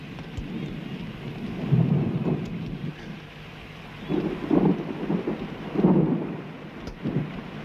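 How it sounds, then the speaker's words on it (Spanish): A thunderstorm with heavy rain in the Argentine countryside: low rolling thunder swells and fades in several waves over constant rain hiss and wind, with no talk. "El diluvio"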